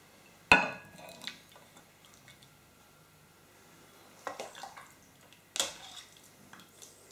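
Ladle scraping and clinking against a pan while serving chorizo and potatoes, with a sharp metallic knock at the start, a softer scrape after, and two more clattering scoops later, close and otherwise quiet.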